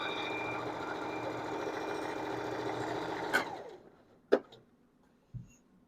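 Sewing machine sewing curtain fabric, a steady close motor hum with rapid needle chatter for a few seconds, then stopping, followed by a couple of sharp clicks and a soft thud.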